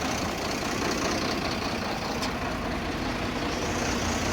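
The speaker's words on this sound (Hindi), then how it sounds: "ये आवाज़ कर रही है अपनी, इसका वेल्डिंग खुल गया है थोड़ा सा यहाँ से" A truck with broken, partly opened welding, travelling on a long wide-load road trip in India, gives a steady droning engine rumble mixed with rattly noise that stays constant throughout.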